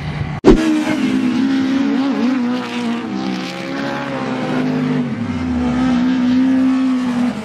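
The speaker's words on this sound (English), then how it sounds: "That's the twin bike engines right there" Autograss race car powered by twin motorbike engines, a loud, sustained high-revving buzz with a sharp bang at the start, pitch wavering and dipping as it races past up close.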